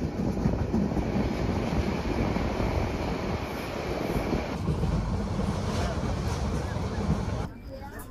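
Parjatak Express passenger train on the Dhaka to Cox's Bazar line, heard from on board as it gets moving again: a steady, loud rolling rumble with constant rattling and wind noise that stays unbroken and drops slightly near the end.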